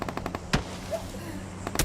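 Bursts of gunfire in the BGMI battle royale game, a rapid string of sharp shots at the start followed by a single louder crack, with fainter shots near the end.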